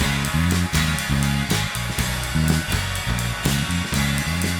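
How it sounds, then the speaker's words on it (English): Recorded guitars from a mix, with the channel fader pulled back so the level drops. A dense, steady strummed or chorded guitar part plays with no talking over it. "Here's our guitars."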